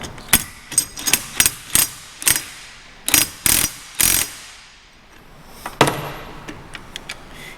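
An impact wrench working a bolt during a corn head rebuild, short sharp mechanical rattling bursts repeated at irregular intervals, close and loud, with quiet gaps between.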